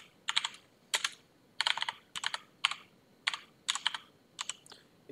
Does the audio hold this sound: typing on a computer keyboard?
yes